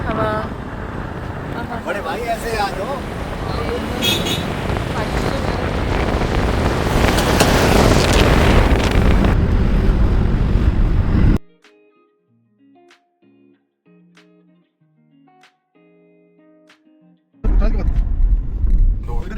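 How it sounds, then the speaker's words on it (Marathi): Strong wind buffets the microphone near the Mata Baglamukhi ropeway in Manali, a loud, rising broadband roar with voices underneath; it cuts out abruptly for several seconds, then returns just as loud. "हवा वगैरे"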